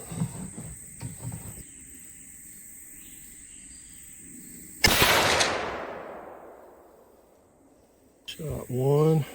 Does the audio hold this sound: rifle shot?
yes